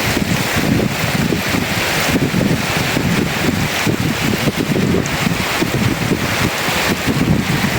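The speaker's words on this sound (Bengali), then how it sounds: "বাতাসের জন্য সব জায়গায়। যেমন বাতাস তেমন বৃষ্টি।" Strong wind in a rainstorm beside a pond, a loud continuous roar and buffeting rumble that hits the microphone throughout, with no clear rain patter standing out.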